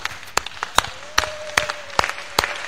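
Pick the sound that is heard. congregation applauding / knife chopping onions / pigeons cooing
congregation applauding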